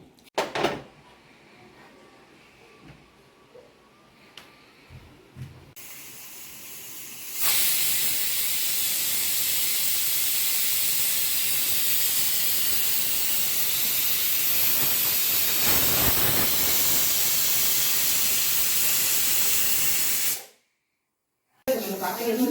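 After some quiet clinks and knocks, a pressure cooker cooking horse gram lets out a loud, sustained steam hiss that runs for over ten seconds, then cuts off abruptly.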